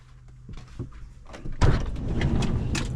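Sliding door of a self-built Sprinter camper van being opened: a few soft handling knocks, then a loud thunk and rumbling slide, with the door's motion continuing as a rolling rattle, close by and without talk.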